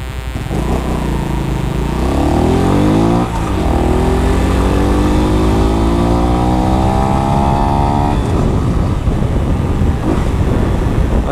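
A Honda Pop 110i motorcycle with its stock exhaust, engine loud and close as it revs up through rising pitch sweeps, eases off, then climbs again under steady wind noise.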